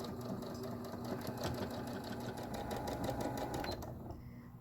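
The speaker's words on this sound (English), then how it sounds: "now I'm just simply sewing that 1/4 inch all the way down" Sewing machine stitching a quarter-inch seam along fabric, a steady fast mechanical whir with rapid needle ticks, close and continuous, stopping just before the end.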